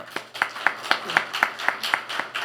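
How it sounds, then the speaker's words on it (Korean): A church congregation at a Wednesday prayer meeting claps in a steady, even rhythm, with sharp hand strikes repeating several times a second at moderate loudness and no voices over them. "한번 우리 감사의 박수, 격려의 박수 한번 보내면 어떨까?"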